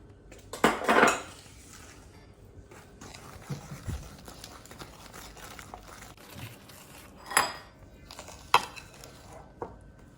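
A spoon or whisk knocks and scrapes against a bowl while mixing cookie dough of egg and self-raising flour, with a few louder clinks among quieter stirring, close and alone.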